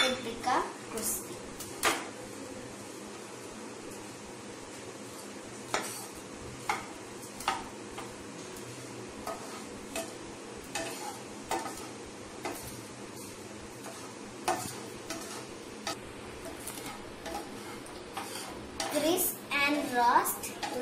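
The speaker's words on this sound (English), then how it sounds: "Stir the bread on low flame until it becomes crispy." Bread cubes being stirred in a pan over a low flame for caramel pops, with scattered clicks and scrapes of a utensil against the pan in a steady irregular rhythm, a faint background hiss, and a busier clatter near the end.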